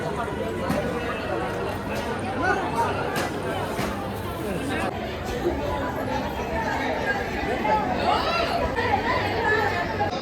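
Dense crowd chatter fills a busy temple, with a steady babble of many voices close around, occasional louder calls and shuffling, continuous throughout.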